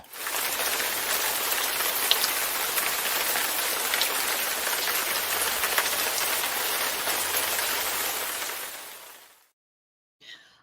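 Rain sound effect triggered during a live stream: a steady, dense hiss of falling rain fills most of the span, then cuts off abruptly near the end, leaving a brief faint blip.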